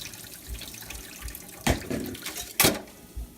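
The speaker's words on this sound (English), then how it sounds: "I should be able to pour all the water out" Water from a pot poured out through a strainer into a sink, heard as a steady wet trickle with a couple of louder gushing splashes, close by and without voices.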